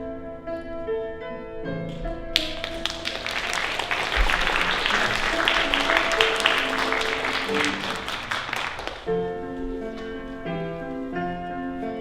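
Applause from the audience at an Amery High School stage performance of Little Women swells for several seconds of dense, sustained clapping, then cuts off as quiet music continues.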